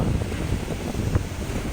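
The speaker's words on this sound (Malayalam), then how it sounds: "ഇപ്പോൾ തിരയുടെ സൗണ്ട് കൂടിയിട്ടുണ്ട്" Waves surge onto a beach in a short, steady stretch of loud surf noise, mixed with heavy wind rumble on the microphone.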